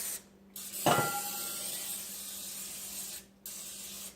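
Cooking spray hisses onto two round cake pans for a vanilla cake, a near continuous spray lasting a few seconds between short pauses, with no voices.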